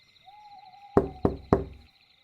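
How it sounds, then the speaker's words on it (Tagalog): Three firm knocks on a door in even succession, close and sharp against a quiet room with a faint steady hum. "may kumatok."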